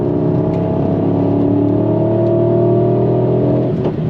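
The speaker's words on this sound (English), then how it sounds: "Love the sound of that V8." Deep, steady V8 drone from a 2025 Mercedes-AMG GT 63, close and loud, holding a smooth rumbling note with a slight swell near the end.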